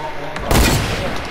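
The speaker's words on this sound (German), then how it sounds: "Seine Kollege schießt auch, ne?" Enemy gunfire in a Fortnite match, a loud burst of close rapid shots with a booming tail, over faint background game noise.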